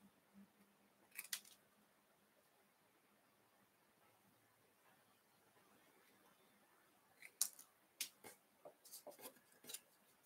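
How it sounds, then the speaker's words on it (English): Paper leaves being cut out for a handmade card: two short bursts of quiet, crisp scissor snips, the first brief and the second a quicker run of several cuts, separated by near silence. "Right, let's cut some more of these leaves out."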